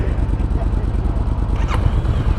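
A Honda SCL500 motorcycle ridden up a road, its engine a steady low thrum with a continuous rumble and some wind, close and fairly loud throughout.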